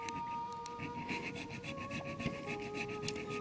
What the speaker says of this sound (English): I'll take the last tiny little bit off that with a file